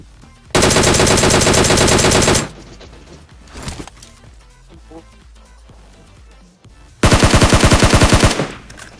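Bots open fire in PUBG Mobile: two long bursts of rapid automatic gunfire, loud and close, with scattered shots and game noise between them.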